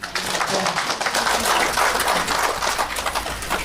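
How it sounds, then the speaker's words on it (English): Soft, steady applause fills a house handover ceremony under a mass housing programme, a dense wash of many hands clapping at an even level throughout, with no clear peaks or pauses. "Can you give him again a round of applause?"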